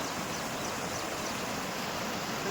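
Rainwater flows steadily into a fish pond from a channel, a constant soft rushing wash heard at a moderate distance with no voices.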